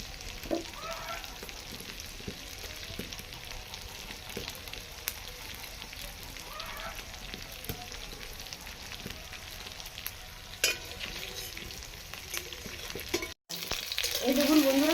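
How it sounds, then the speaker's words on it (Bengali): Chicken kofta balls fry lightly in oil, giving a continuous low crackling sizzle with scattered pops and brief stirring clatter, rising slightly toward the end. "দিয়ে ভেজে নিচ্ছি সামান্য হালকা ভেজে নেবো"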